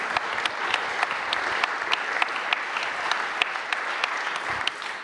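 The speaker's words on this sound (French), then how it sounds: "Donc je propose qu'on applaudisse Jean encore une fois." An audience at a university event claps steadily for five seconds, a full even patter with a few sharper individual claps standing out near the front.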